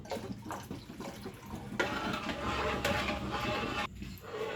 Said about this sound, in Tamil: ஒரு டம்ளர் தண்ணி ஊற்றுங்க